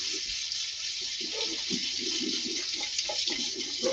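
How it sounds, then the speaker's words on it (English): Tap water runs steadily over drained gluten-free penne pasta in a colander, a close continuous splashing rush with small shifts as the pasta is moved, and no voices. "we're just going to drain the penne. And then I'm just going to rinse it."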